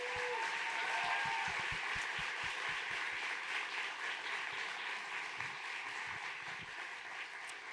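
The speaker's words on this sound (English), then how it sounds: "Let's give them a big round of applause." Applause from the audience at a startup demo day, a steady crowd of hands clapping at moderate volume that fills the whole stretch, with a few louder individual claps near the start.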